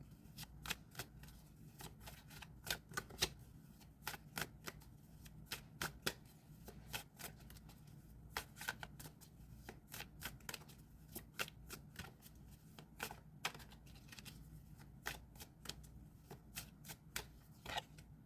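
Tarot cards shuffled in a long run of quick, sharp slaps and flicks, steady and close but quiet over a faint background hum, no voices.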